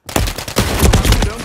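Rapid bursts of gunfire in Call of Duty: Modern Warfare 3 multiplayer crackle in quick succession, loud and close, with dense overlapping shots and no pauses between volleys.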